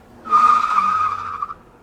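A car skids with a sustained tire squeal for about a second, loud and close, as it nearly strikes a pedestrian crossing a large city intersection, then cuts off abruptly.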